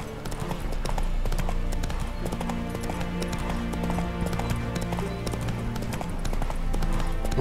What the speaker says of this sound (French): donc je préfère prendre le cheval